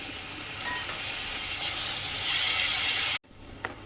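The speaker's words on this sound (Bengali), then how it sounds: "এই যে মশলাটাকে ভালো করে কষছি" A spice paste of cumin, coriander and chilli powder with turmeric and a splash of water fries in a pan, giving a close, steady sizzling hiss that builds slightly, then cuts off abruptly and returns softer.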